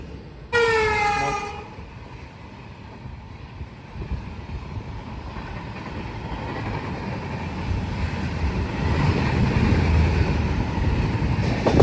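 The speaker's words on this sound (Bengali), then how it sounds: "মল্লারপুর স্টেশনে সিগন্যাল না পেয়ে আমাদের ট্রেন কিছু সময়ের জন্য দাঁড়িয়ে গেছিল, এই জাস্ট এখন আবার ছাড়লো।" A passenger train pulls away from Mallarpur station after waiting for a signal, opening with a brief horn toot, then a steady, building rumble and clatter of wheels heard from on board.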